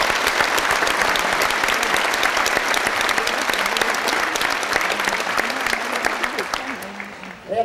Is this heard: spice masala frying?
no